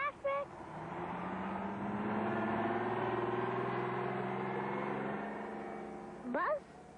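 Road traffic rumbles past, a vehicle's engine drone swelling and fading at moderate distance, with a short voice heard at the start and again near the end.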